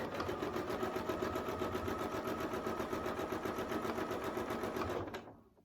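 A sewing machine stitches along a ruler while ruler quilting a holiday mug rug, a fast steady mechanical whir and rapid needle patter, close, then winding down and stopping at the end.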